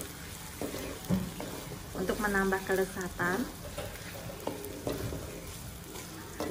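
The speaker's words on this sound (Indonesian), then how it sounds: "Diaduk terus" Kikil, beef skin, being stirred and fried with sweet soy sauce in a pan, a steady close sizzle with scraping stirs, while a voice talks over it.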